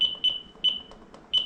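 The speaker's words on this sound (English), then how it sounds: "I'm gonna have a 30-minute timer ready" A kitchen timer being set in a sourdough bakery, giving several short, sharp, high-pitched beeps at irregular intervals, close and clear against a quiet room.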